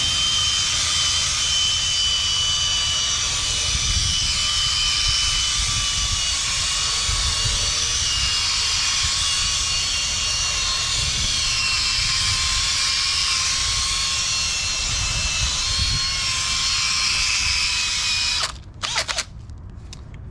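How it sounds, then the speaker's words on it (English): A power drill spins a brush attachment to scrub car tires, a steady loud whirring drone that runs unbroken for about eighteen seconds before cutting off with a few brief stutters at the end. "I'm gonna get my drill on the brush and just run through it a little bit"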